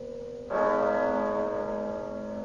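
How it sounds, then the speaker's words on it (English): A church bell tolling the hour in a radio drama adaptation of A Christmas Carol, a single resonant strike that rings out with a long, sustained metallic hum, clear and alone. "But as the bell sounded,"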